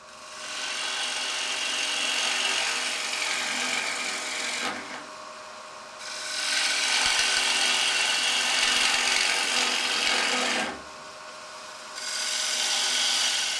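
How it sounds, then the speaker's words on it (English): A steady rough scraping and grinding as a tool hollows a wooden bowl spinning on a lathe, loud and continuous with two brief pauses. "Now we're going to do our hollowing."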